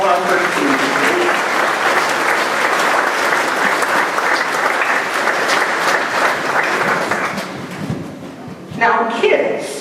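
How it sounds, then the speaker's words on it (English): Sustained applause from a church congregation at a first communion service, a dense steady wash of clapping filling most of the clip before fading as a voice begins to speak near the end. "let's give a round of applause for all of our first teams."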